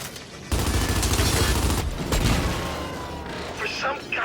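Gears 5 gunfire, with bursts of rapid shots and a heavy boom crackling over a noisy battle backdrop, loud and close, with a brief lull partway through.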